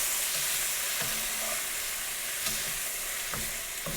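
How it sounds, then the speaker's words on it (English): Caramelized zucchini frying in a pan, stirred with a few scraping knocks over a steady, moderate sizzle, close by and with no talking. "We're going to go ahead and give this a stir."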